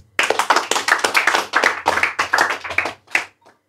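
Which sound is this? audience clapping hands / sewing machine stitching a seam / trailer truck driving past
audience clapping hands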